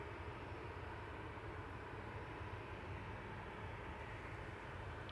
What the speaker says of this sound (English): We watch the A380 prepare for departure,